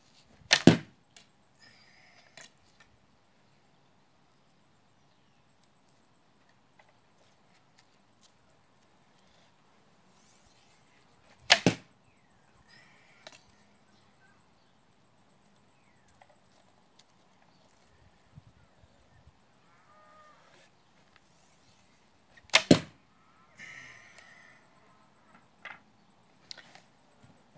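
Arrows from a heavy longbow, drawing about 125 pounds at 30 inches, strike an old target on the ground outdoors, giving three sharp, loud thumps spaced roughly ten seconds apart, with faint rustling and small knocks in between.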